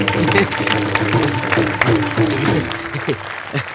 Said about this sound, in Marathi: पोरं टाळ्या द्यायला काय होतं?